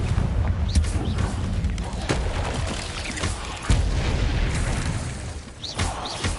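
Spell explosions from Bombardo and Confringo in the Hogwarts Legacy video game land as several booming bursts and pops at uneven intervals, over low rumbling ambience, with no voices.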